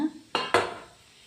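A knife clacking twice against a plate or dish while slicing a soft demoulded carrot sweet, two sharp close taps followed by quiet.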